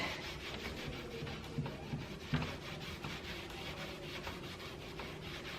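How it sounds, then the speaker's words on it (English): Clear wax is rubbed onto white chalk-painted wood on a farmhouse hutch with a rag, a steady soft scrubbing with a few light knocks and no talk. "Dragging a dry sponge and then clear wax on a rag."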